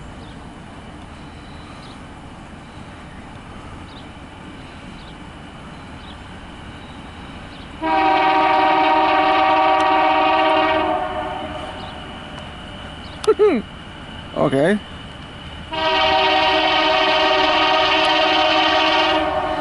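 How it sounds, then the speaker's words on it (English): Horn of a CSX loaded grain train led by two BNSF locomotives, a slightly broken, wobbly-sounding blast sounding loud in two long sustained bursts with short honks between, over steady rail rumble, with a brief spoken word. "You see, that horn's broken a little bit."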